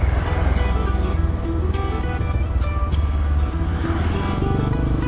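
Honda CRF 150 motorcycle engine held at raised revs with the clutch half released, a steady loud drone filling the whole stretch with slight wavering, no talk over it.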